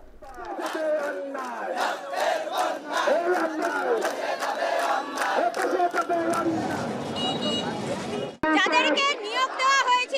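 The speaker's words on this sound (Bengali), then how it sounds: "6 দফা দাবিতে স্লোগান দিতে থাকেন শিক্ষার্থীরা" Students at a road-blocking demonstration chant protest slogans in unison, a loud rhythmic crowd of many voices shouting repeated phrases. A single voice leads near the end.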